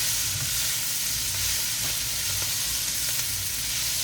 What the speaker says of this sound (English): Get everything all stir fried up